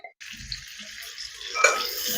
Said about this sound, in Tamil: அதே எண்ணெயில் கொஞ்சம் போல கடுகு போட்டிருக்கோம்